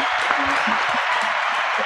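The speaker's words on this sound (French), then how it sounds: "On peut les applaudir quand on même." Crowd applauding a startup team after their pitch at a Startup Weekend Aix-Marseille evening event, steady dense clapping throughout with scattered voices and cheers mixed in.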